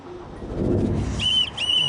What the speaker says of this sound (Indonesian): suara peluit dari kejauhan